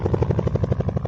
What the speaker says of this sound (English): Friendly helicopter on the way. Friendly helicopter.